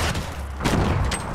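Grenade explosions in the video game Fortnite, a dense, loud, boomy blast with crackling rumble across the whole short moment, heavy and close.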